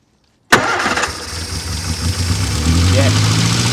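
Engine of a 1972 Austin van fires abruptly from silence, settles into a rough, steady idle and grows slightly louder and fuller close by.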